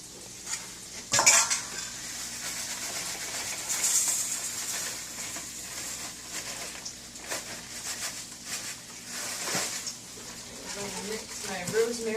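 A utensil stirs rosemary into panko breadcrumbs in a bowl, producing repeated scraping and clinking strokes with a few louder knocks, close up.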